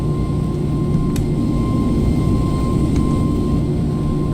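Steady loud roar of Airbus A321neo jet engines during takeoff in a flight simulator, constant broadband rumble with a faint tonal whine and a couple of small clicks, no speech.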